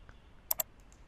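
A computer mouse clicks while CAD software is being operated: two quick, sharp, quiet clicks in close succession, alone against faint background noise.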